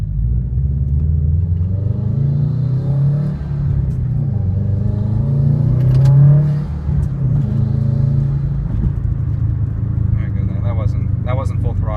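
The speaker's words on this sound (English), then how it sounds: "maybe I'll give it some gas" A 2013 Subaru WRX with a Stage 2 tune pulls away from a stop sign in a neighborhood, its engine rumbling low and rising in pitch through a gear change, heard from inside the cabin with occasional clicks.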